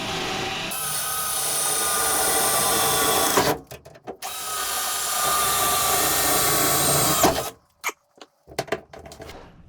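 A CNC machining center drills a bolt clearance hole, giving two sustained loud grinding, whirring bursts of cutting, each ending abruptly, followed by a few short clunks and taps.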